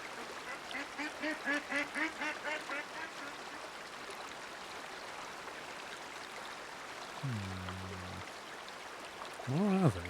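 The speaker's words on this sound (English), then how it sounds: "There's nothing but ducks." Ducks quack in the hunting video game Way of the Hunter: a rapid run of loud, close quacks at the start, then a lone nasal honk-like call later and another burst at the end, over a steady stream-like wash.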